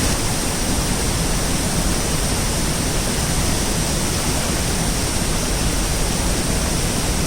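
A powerful hidden waterfall near Aamla village, Suryamal, swollen after rain, roars as a loud, unbroken wash of rushing water close by, with no pauses.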